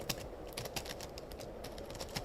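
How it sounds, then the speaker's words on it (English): Quick, steady keystrokes tapped on a computer keyboard during Python coding, close and fairly quiet, with no talking. "Can type something"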